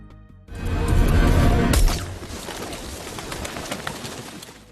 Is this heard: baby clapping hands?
no